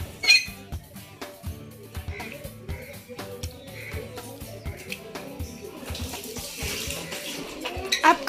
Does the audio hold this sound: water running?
yes